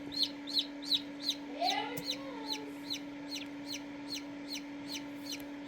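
Newly hatched chick peeping inside an incubator during a dry hatch, giving a regular series of high, thin chirps about every third of a second over a constant electrical hum, fairly faint with a brief rustle partway through.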